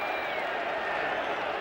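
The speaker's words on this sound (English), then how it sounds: "Oh, the Englishman are going mad in the crowd." Crowd at a 1980s rugby league match between England and Australia roars steadily, a dense, continuous wash of cheering and applause held throughout the short stretch.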